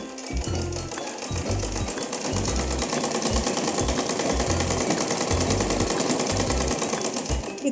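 Sewing machine stitching folded pant fabric for a plain churidar pant, a fast steady mechanical chatter of the needle running in continuous bursts with brief pauses, loud and close.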